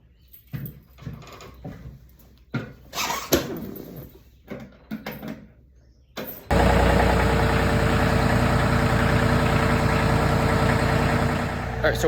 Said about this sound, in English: So I'll get the tractor fired up and let's get started.